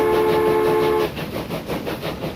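Steam locomotive with a coal tender rolling along in the Transport Fever 2 video game, a held whistle tone in the first second giving way to steady chuffing and rail rumble, fairly loud and alone.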